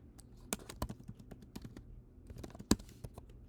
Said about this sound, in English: This is a Braille typewriter.